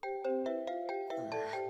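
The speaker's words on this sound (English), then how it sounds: "Yikes, it's still ringing." Cell phone ringtone from the video game Digimon Survive, a repeating electronic melody of bright chiming tones pulsing about five times at a steady rhythm, close and clear with no talking.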